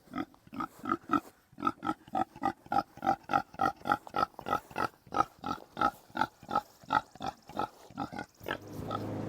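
Pigs grunting and oinking on a farm, a steady run of short, evenly spaced calls close to the microphone, with a rustling, rising noise at the very end.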